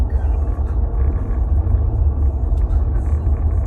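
Car driving along a road on a commute, a steady loud low rumble of engine and tyre noise from inside the vehicle throughout, with no talk.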